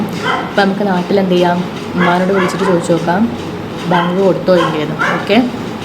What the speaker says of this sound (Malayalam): ഞങ്ങൾ ഹോസ്റ്റലിലെ അപ്പുറത്തുള്ള വീട്ടിൽ വളർത്തുന്ന പട്ടിയാണ് കടന്ന് കുറച്ചുകൊണ്ടിരിക്കുന്നത്.